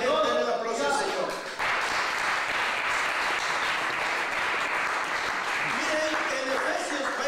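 Church congregation applauding in praise, starting after a brief spoken moment and then swelling into steady, full clapping that continues to the end.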